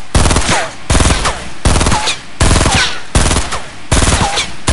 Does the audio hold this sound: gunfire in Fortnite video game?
yes